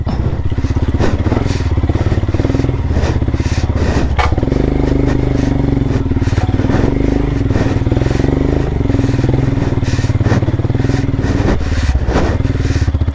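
An enduro motorcycle riding off-road, its engine running loud and close throughout with repeated sharp throttle blips, clatters and thumps from rough terrain over a continuous low drone.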